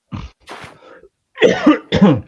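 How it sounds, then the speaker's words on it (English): A woman coughs several times in quick bursts during a Monday night service at home, the coughs close and fairly loud with short pauses between them. "can't help coughing"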